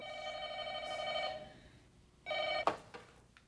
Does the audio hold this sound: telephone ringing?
yes